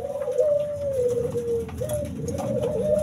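An adult burung puter dove coos close by in long, wavering repeated calls over faint background noise.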